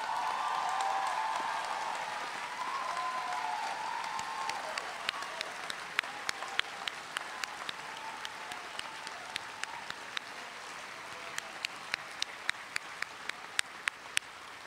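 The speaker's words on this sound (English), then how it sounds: "Okay, you can clap now." An audience at a 2011 journalism school graduation ceremony gives moderately quiet applause after awards are announced, the dense clapping gradually thinning into scattered, individual claps that stay audible to the end.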